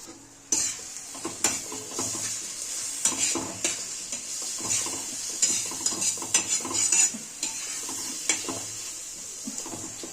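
A utensil scrapes and stirs a yogurt pithla mixture across a hot griddle in irregular strokes while it sizzles steadily underneath.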